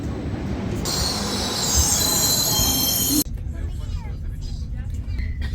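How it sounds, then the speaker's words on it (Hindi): A high-speed bullet train bound for Italy pulls into a Swiss border station, wheels squealing loudly with a high metallic screech before cutting off abruptly, leaving rumbling platform noise and a voice talking. "ये आ गई हमारी ट्रेन इटली के लिए। This is the bullet train."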